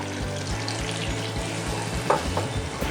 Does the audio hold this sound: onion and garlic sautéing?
yes